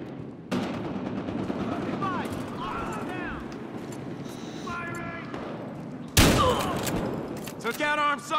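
An 870p Magnum shotgun in Battlefield Hardline fires amid loud in-game gunfire, with sustained shooting and a sharp, heavy blast near the end, as voices talk over the action.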